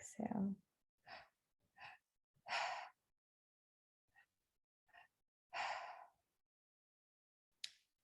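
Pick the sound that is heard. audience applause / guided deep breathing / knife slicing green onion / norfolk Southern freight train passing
guided deep breathing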